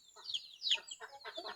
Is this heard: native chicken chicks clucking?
yes